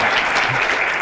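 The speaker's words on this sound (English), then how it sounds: "Big round of applause for Mr. Frank." Audience applause in a school presentation setting, a loud steady burst of many hands clapping close by for a presenter.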